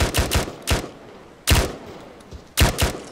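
Gunfire in the Final Assault game comes in three loud bursts: two or three rapid close shots at the start, another pair mid-way and a final cluster near the end, each sharp and punchy with short gaps between.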